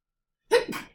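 A single sharp sneeze close to the mic, a quick intake followed by a burst and a brief trailing exhale, with silence before it.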